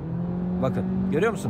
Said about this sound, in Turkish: Çünkü motor zaten ufak bir motor olduğu için bağırıyor.